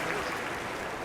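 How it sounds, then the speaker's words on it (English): A steady wash of crowd noise fills the Aquatic Centre in a London 2012 Olympic swimming video game, a dense, continuous roar from many fans with no distinct claps or voices standing out. "Plenty of different countries represented amongst all of those fans who make so much noise"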